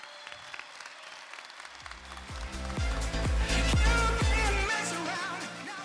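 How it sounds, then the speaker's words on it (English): An opening-ceremony audience applauds, clapping starting sparse and building into a full, sustained ovation from a large crowd before easing slightly. "So please all give a round of applause for the Chief Technology Officer and co-founder of Infobip, Isabel Jelenic."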